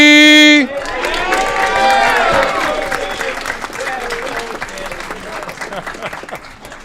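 Crowd applause with cheers at an Aurora city council meeting: a brief tone opens, then loud, dense clapping with whoops and shouts rises and gradually thins out near the end.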